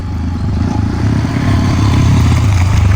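A motorcycle engine drones loud and close as it accelerates uphill, its low rumble building steadily throughout with no pause.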